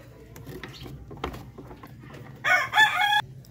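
Darag native chickens in a backyard farm, with a rooster letting out one short, loud crow near the end over faint low clucking and background noise.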